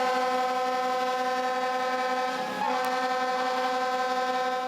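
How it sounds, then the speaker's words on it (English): A loud, sustained fire alarm siren wails in a steady tone on a fireground, signalling firefighters to evacuate a building, briefly dipping midway before holding on, with no talking over it. "Those sirens and whistles tell firefighters to get out of the building."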